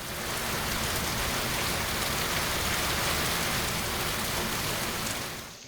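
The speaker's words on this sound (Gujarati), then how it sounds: "સૌરાષ્ટ્રમાં ઠેર ઠેર હળવાથી ભારે વરસાદ થઈ રહ્યો છે" Heavy rain pours down across Saurashtra villages, a dense, steady roar of drops hitting surfaces that stays constant and close throughout, easing slightly only at the very end, with no voices.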